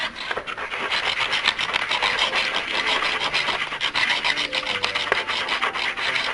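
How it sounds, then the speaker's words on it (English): A mineral specimen scraped back and forth across an unglazed porcelain streak plate in a classroom, giving a steady, dense rasping grind that runs continuously at close range with no talking. "I want you to each grab one of these minerals, and I want you to go ahead and rub it along the streak plate."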